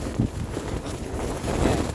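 Steady low wind rumble of a storm on an exposed hill buffeting the microphone, loud and continuous with gusty swells, no voices.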